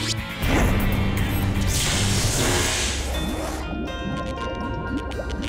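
A sea creature splashes back into the sea in a children's game, a loud burst of sloshing water followed by dripping and gurgling that fades under light talk.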